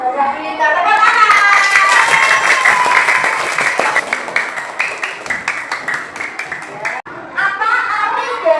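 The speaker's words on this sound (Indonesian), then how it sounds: "Pintar, tepuk tangan." Children in an Indonesian classroom clap together in a loud, dense burst of applause that thins into scattered individual claps, pauses briefly, then swells again near the end.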